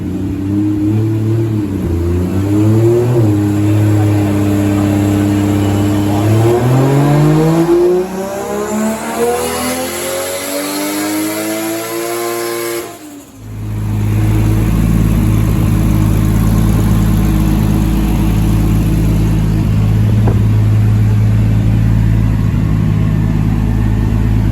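A big-turbo Toyota Soarer JZZ30 engine revs hard on a dyno, loud and close, its pitch climbing steadily through a long pull before abruptly cutting off, then settling into a rough, loud idle.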